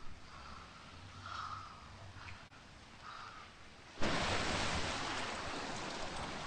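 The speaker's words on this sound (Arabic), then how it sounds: "ده الشتا مغرق الدنيا تحت" Heavy rain storm pours down outside, a steady, dense roar of hiss that swells in suddenly and loudly after a quieter, muffled stretch, with no talking.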